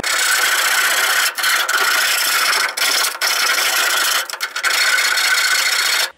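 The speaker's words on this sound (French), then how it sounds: "Avec une lime, je finis de bien ébavurer les angles." A hand file rasps steadily over the edges and corners of sheet-metal panels on a Citroën Traction 11B, deburring them in loud, continuous strokes broken by brief pauses between passes.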